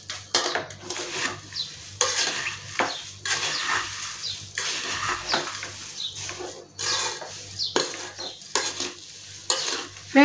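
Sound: stirring powdered sugar into poha murmura namkeen

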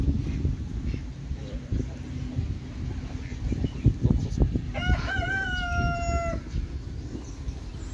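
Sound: Brahma rooster crowing and chickens clucking

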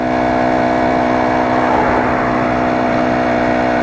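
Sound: motorized bicycle 4-stroke engine revving, GX35 clone

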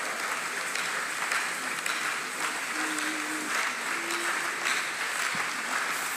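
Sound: audience applause at church convention sermon

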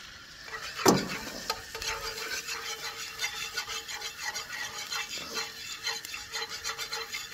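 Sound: tomato paste bubbling and being stirred in pan

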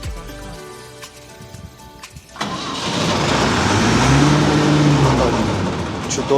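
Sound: combine harvester engine starting

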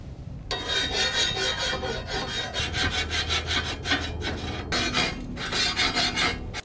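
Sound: filing metal access door smooth

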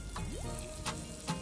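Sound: frying potatoes and peas in pan

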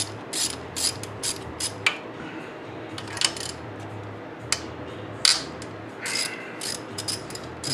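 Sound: ratchet wrench loosening tightly torqued bolts

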